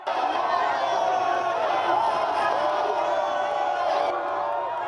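A dense street crowd at an Abidjan crossroads cheers and shouts in welcome for Blé Goudé's return, a steady close roar of voices with whoops throughout.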